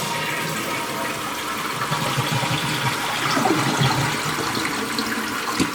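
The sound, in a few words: toilet large flush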